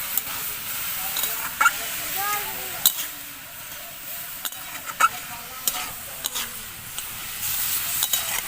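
Moringa (drumstick) flowers fry in a pan with a steady close sizzle and hiss, while a utensil scrapes and stirs through them in irregular knocks and clinks.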